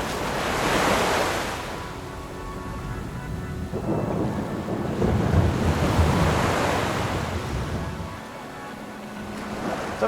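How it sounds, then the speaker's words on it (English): Heavy ocean swell surges and crashes onto black rocks in rough midday weather, a loud rolling roar that rises and falls in broad waves close by. "The swell is getting higher and the waves are getting bigger and they're starting to reach me."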